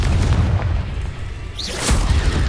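A blasting-spell explosion in a video game lands as a brief, muffled boom that is not much louder than the continuous dense game noise surrounding it.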